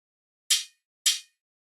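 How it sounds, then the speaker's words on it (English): Two short, crisp metallic hi-hat hits, evenly spaced about half a second apart, each with a quick bright decay. "this hi-hat's a little metallic-y"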